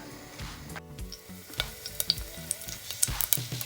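Tomato sizzling in hot oil in a pan, a faint crackling hiss with scattered pops and stirring scrapes, close and without talk.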